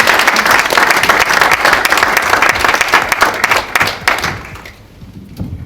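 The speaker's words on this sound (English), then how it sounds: "Clap him up." An audience at a launch event for a maternal and newborn care initiative gives the speaker a loud, close round of clapping that keeps up for about four seconds, then thins out and fades into quieter room noise.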